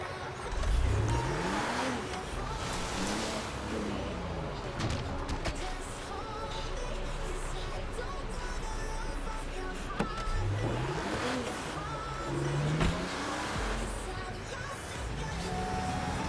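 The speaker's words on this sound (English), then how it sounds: "You and your friend are going to get in the car and drive into the casino parking garage." Video game car driving toward a casino parking garage, engine revving and rising in pitch through repeated accelerations, loud and steady with tire and motor noise throughout, no voices.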